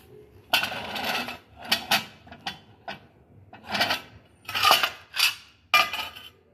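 Expensive plates are handled in a shop and clatter against each other in a run of sharp, close ceramic clinks and knocks, spaced irregularly and heard alone without talk.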